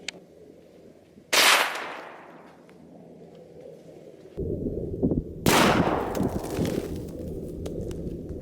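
A .223 rifle firing a Nosler 40 grain Ballistic Tip into a cantaloupe, heard as two loud, sharp outdoor blasts a few seconds apart, each trailing off in a long rolling echo, with no voices.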